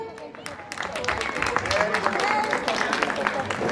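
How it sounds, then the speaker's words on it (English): Audience clapping at a children's talent show and baby show at a Kidzee preschool in Muzaffarnagar, a steady crowd applause filling the room with talk over it. "Everyone, please clap for him."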